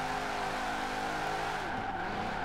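Screeching tire squeal from a 1500hp Formula Drift car sliding sideways in Forza Horizon 4, steady and loud with engine drone under it throughout.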